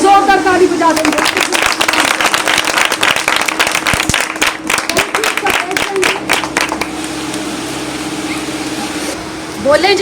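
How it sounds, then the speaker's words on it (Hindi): A church women's meeting crowd claps loudly and densely for several seconds, then the applause fades into quieter room sound and a voice near the end. "भाई जोरदार ताली बजा देंगे।"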